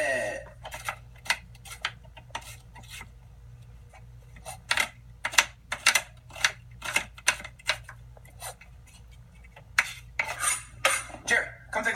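A knife dices an onion on a cutting board in a home kitchen, giving rapid, uneven runs of sharp chopping taps that are close and fairly loud, with a brief pause partway through and no talking.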